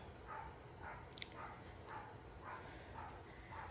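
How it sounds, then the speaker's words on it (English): A dog barks repeatedly in a steady rhythm, about six barks, sounding somewhat distant and muffled over a constant low background hum. "my dog is going crazy"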